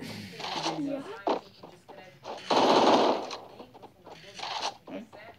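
Video game gunfire crackles in rapid automatic bursts, loudest in a dense stretch mid-clip, with excited shouting players talking over it.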